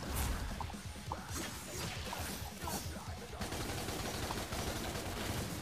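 Rapid gunfire in the action game DmC Devil May Cry, a steady dense barrage of shots mixed with crashing impacts and whooshes running continuously at moderate loudness throughout.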